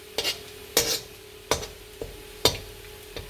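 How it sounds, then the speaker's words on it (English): Garlic frying in a pan while being stirred, heard as a few distinct scraping strokes at irregular intervals over a faint, steady sizzle, close and fairly quiet. "And I'll start stirring it."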